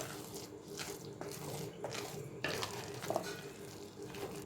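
A spoon stirs a pot of freshly pressure-cooked ven pongal, a rice and lentil dish, giving several wet, scraping strokes at close range with no talk.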